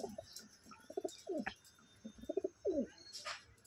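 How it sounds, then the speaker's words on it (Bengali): Pigeons for sale at a home loft coo in repeated throaty bursts, several short rolling calls close by with faint background noise and no talk. "এই যে পায়রা,"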